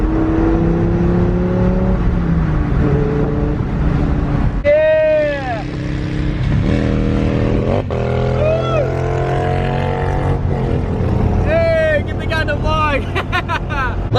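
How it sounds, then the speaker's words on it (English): A 2002 Dodge Viper revs while rev matching from 5th down to 3rd gear, its engine note sweeping up in sharp repeated climbs and drops, loud and close from inside the car. "Let me see if I can rev match it to 3rd."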